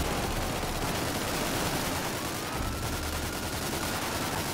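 Dense, continuous gunfire pours into a bus during a GTA roleplay shootout, a loud, unbroken wall of rapid shots lasting the whole stretch with no pauses.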